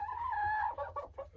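Backyard chicken clucking nearby, a short drawn-out call followed by a few quick clucks, faint and alone.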